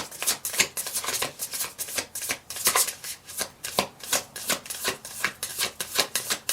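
Tarot cards being shuffled close up, a quick rhythmic run of papery riffles and flicks repeating steadily without talk.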